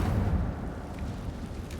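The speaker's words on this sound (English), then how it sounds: "Incendio." A fire spell cast in the video game Hogwarts Legacy gives a loud, low rumbling burst that swells at the start and then holds as a steady roar, with no talk over it.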